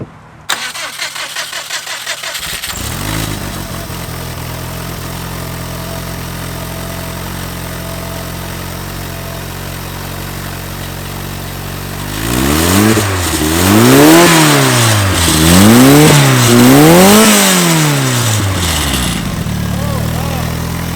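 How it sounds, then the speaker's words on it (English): A full-size, hand-built functional Hot Wheels car cranks and fires up, settles into a steady idle, then revs up and down in several rising and falling surges, loud and close. "I'm going to start the car up and take a look at the rear muffler"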